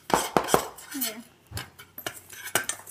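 Chocolate cream pie filling is mixed with cocoa in a bowl, with a spoon clanking and scraping in quick, irregular knocks up close, and brief vocal sounds in between.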